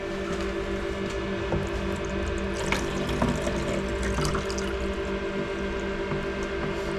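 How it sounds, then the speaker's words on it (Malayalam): Water pours steadily into an egg incubator tray, a continuous close splashing and trickling stream over a constant mechanical hum, with no talking. "ഫുള്ള് വെള്ളം ഒഴിച്ച് വെക്കണം."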